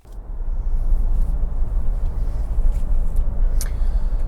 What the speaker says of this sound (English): now we're driving, or I'm driving, the Sorento